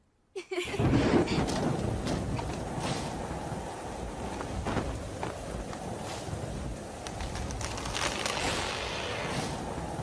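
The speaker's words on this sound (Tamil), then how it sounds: "தற்போது கொரியாவில் புயல் மழை பெய்து கொண்டு வருகிறது." A storm brings heavy rain with thunder: a dense, continuous roar of rainfall starts abruptly after a brief silence and holds loud and steady, with deeper rumbles mixed in.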